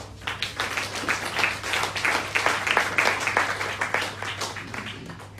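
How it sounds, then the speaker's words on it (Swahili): An audience at a mindset-transformation talk claps for Alphonse in a steady, moderately distant round of applause that lasts several seconds without letting up. "makofi haya anayastahili Alphonse"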